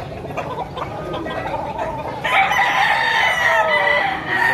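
A young stag gamefowl for sale at a chicken market in Padre Garcia, Batangas crows once, loud and near, after a few seconds of rustling and clucking noise.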